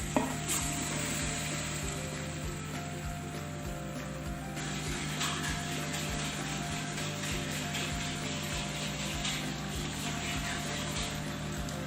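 Boiled white chickpeas and spices sizzle steadily in a pan, a constant close frying hiss with faint stirring clinks and a low background hum.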